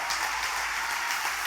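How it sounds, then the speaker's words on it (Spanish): A congregation at a church service claps in unison, a brief, even burst of applause at moderate loudness with a faint low hum beneath it. "Póngase de pie, den un aplauso a Dios y reclame las promesas que Él te ha dado."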